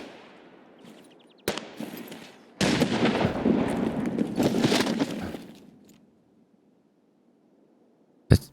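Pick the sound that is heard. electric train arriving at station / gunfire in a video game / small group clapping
gunfire in a video game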